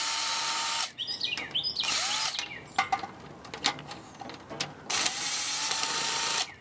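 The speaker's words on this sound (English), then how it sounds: "I got my DeWalt screwdriver, basically three screws on each one, and it'll be easy to take these things out." A DeWalt power screwdriver backs screws out of ceiling fan blades, whirring loudly in several bursts of a second or so with short pauses and small clicks between, no talking.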